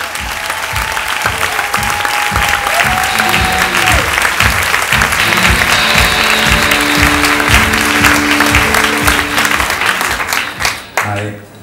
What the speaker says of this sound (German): Kennel, Applaus!